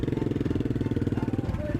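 A Royal Enfield motorcycle engine idles with a steady, rapid low thump from its exhaust, loud and close throughout.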